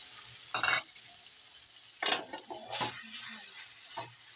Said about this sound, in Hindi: इस तरह घुमा कर हम दही को मिक्स करेंगे।